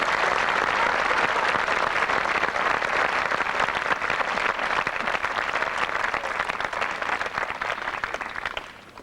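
A large audience at the 1992 Crystal Springs Uplands School graduation ceremony claps continuously in a dense, steady wash of applause that holds strong throughout and tapers off only at the very end.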